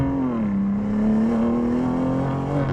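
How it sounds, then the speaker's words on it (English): A BMW M4 launching hard with wheel spin, the engine holding a loud, steady droning roar from inside the car as it accelerates, with no talking. "Now, let's test the acceleration in the M4."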